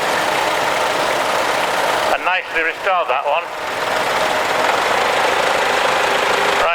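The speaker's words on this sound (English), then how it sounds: "Diesel engine." A restored Ford E27N tractor's diesel engine idles steadily and close by at a steam rally, a continuous low rumble that runs under a brief spoken comment from a man.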